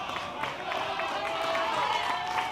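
A baseball crowd at an American Legion game between Watertown Post 17 and Harrisburg Post 45 swells into a steady roar before a full-count pitch, with a nearby announcer talking over it.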